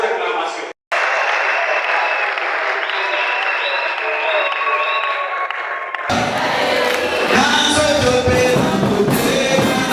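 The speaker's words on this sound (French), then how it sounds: "je sollicite vos acclamations." Big crowd applause and cheering at a political rally, a dense, loud roar of clapping that cuts out briefly near the start, then swells fuller and brighter toward the end.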